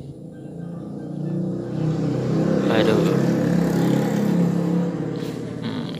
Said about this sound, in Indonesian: Maaf kalau udah suara motor lebih berisik.